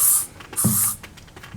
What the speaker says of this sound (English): Fucking bug spray